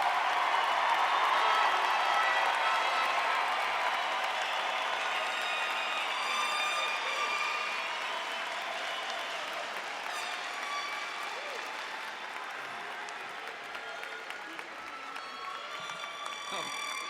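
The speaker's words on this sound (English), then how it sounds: "May I please have a round of applause for our Rocky Mountain High School graduates" A crowd at the Rocky Mountain High School 2017 graduation breaks into loud applause with scattered cheers and whistles for the graduates. It begins strong and slowly thins out while voices carry through the room.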